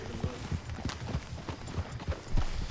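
Horse hooves gallop in the game Red Dead Redemption 2, a fast rhythmic series of muffled thuds repeating close by over a noisy background.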